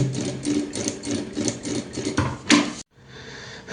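A sewing machine stitches a zipper onto a fabric bag, running at a steady, close, mechanical rhythm before stopping abruptly, then a faint low hum continues.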